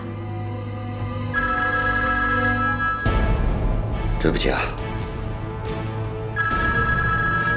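A telephone rings in two separate electronic bursts during a suspense TV drama scene, with a voice and other sounds filling the gap between the rings.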